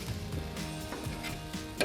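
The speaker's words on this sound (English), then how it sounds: "Now let's get this pork cooked up, still a little pink." Pork sizzles in a hot pan for chili cheese tacos, a steady close frying hiss with a few clicks and light stirring scrapes, and no talk.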